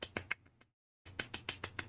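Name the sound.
golf clap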